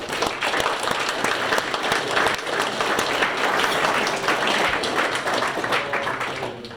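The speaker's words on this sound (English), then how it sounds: "Just give yourself a round of applause for that." Loud, dense applause from a crowd at a celebration ceremony, sustained steadily throughout with many hands clapping close by.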